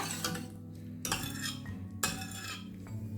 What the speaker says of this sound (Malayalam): ഇനി ഇത് ഒരു കയ്യിൽ ഉപയോഗിച്ചിട്ട് പരിപ്പ് പതുക്കെ ഒന്ന് ഉടച്ചു കൊടുക്കുക